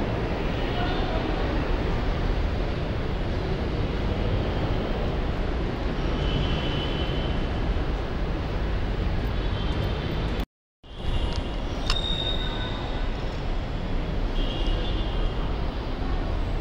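Steady, loud rumble and roar of an LRT 2 light-rail train in motion, heard from inside the car as a continuous broadband noise with one brief dropout partway through.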